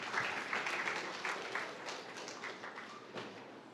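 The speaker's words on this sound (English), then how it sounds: "Let's give them a round of applause." An audience at a pitch battle event applauds, a faint, fairly brief patter of clapping that tapers off slowly, heard alone without speech.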